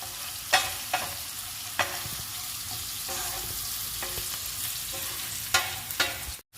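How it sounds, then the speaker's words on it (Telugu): Ground coriander, cumin powder and ginger-garlic paste sizzle in hot oil for a beetroot fry, a steady close hiss broken by several sharp spoon-against-pan scrapes and clicks. "ధనియాల పొడి, జీలకర్ర పొడి, అల్లం వెల్లుల్లి పేస్టు, ఈ 2 కూడా వేయించుకోవాలండి ఆయిల్లో."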